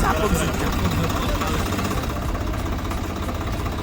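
A tractor engine idles in neutral under a farm shed during rain, a low steady rumble with a rhythmic chug beneath, close by and continuous.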